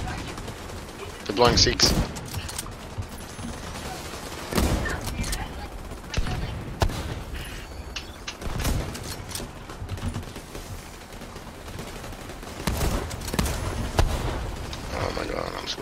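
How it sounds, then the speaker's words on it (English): Bursts of rapid Gatling gun fire in the shooter The Division 2 erupt several times, loud and rattling, with quieter gunfire and game noise between them while players talk over the action. "That's a Gatling gun."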